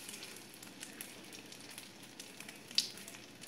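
Thick soaked brioche slices for French toast frying in a pan, a soft continuous crackling sizzle with scattered pops and one sharper spit near the end, fairly faint and close.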